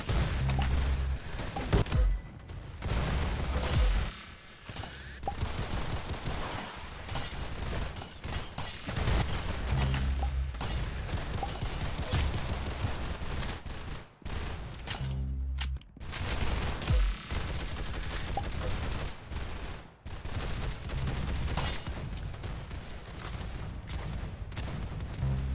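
Video game gunfire fills the scene with dense, rapid volleys of shots and bursts, loud and nearly continuous, with only brief gaps.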